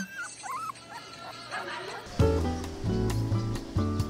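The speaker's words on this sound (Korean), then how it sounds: "주인을 기다리는 귀여운 강아지에게도 잠깐 눈도장을 찍고요" A small puppy at a rural market harbor on an island in Sinan County, South Jeolla, gives high, wavering whimpers and yips, then a musical background swells in and a person talks over it.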